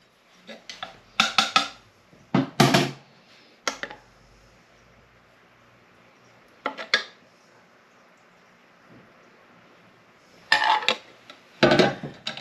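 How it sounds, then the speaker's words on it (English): Spoon clinks and scrapes against a plate and pan while gravy is served for a steak and kidney pudding, a few brief clusters of clatter with quiet pauses between. "I'm just going to put a bit of gravy on"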